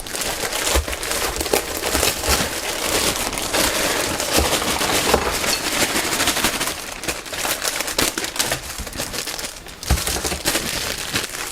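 Stiff courier bag of bike tools being torn open and rummaged, a dense run of sharp crinkling, crackling plastic snaps and rustles that continues steadily and close by, with no talk over it.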